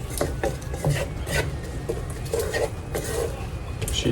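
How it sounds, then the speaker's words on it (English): A kitchen knife being sharpened, with repeated close rasping strokes of steel scraping back and forth in an uneven rhythm, loud and without talk. "Let me sharpen that knife."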